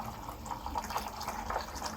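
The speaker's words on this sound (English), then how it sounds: "I'm now pouring in the water," Hot water pours onto chopped coconut in a kitchen while making homemade coconut oil, a soft steady splashing and gurgling stream that stays faint and close.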